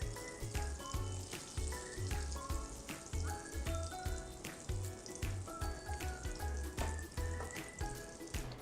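Butter melts and sizzles in a pan while making risoles, a steady close frying crackle broken by regular soft clicks and stirring.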